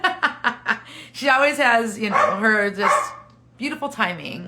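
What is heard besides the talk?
dog barking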